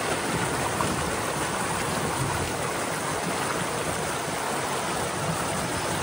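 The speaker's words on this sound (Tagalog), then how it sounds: "sobrang lakas po ng tubig" Strong stream water in a rural field in the Philippines, rushing fast and loud as a steady, dense wash that fills the whole clip without pause.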